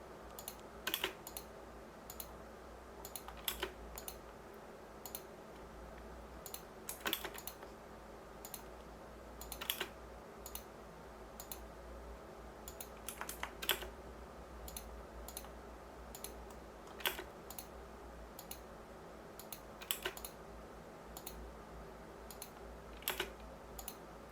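A computer mouse clicking repeatedly while dimensioning a drawing in ZWCAD software, with crisp, close, irregular single and double clicks spread over a quiet room background.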